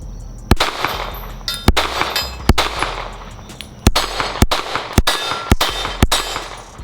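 A Glock 43X pistol fitted with a Radian Ramjet compensator firing 115-grain rounds, about ten sharp, loud single shots at uneven intervals, each followed by a metallic ring and the clink of ejected brass.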